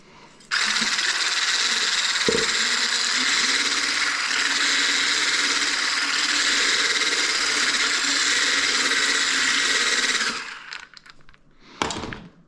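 An electric mixer whirs steadily and loudly for about ten seconds while eggs are beaten for an omelette, then stops, followed by a few clinks and knocks.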